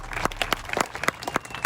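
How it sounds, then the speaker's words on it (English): A short burst of scattered clapping from a small group at a race event, sharp separate claps close by, thanking the crew. "Let's give them a round of applause for putting this together."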